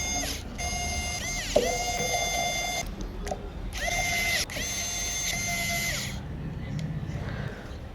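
Screws are driven into the frame of a Samsung A51 phone during a repair, heard as quiet, high mechanical whirring bursts that start and stop, with a low background hum between them.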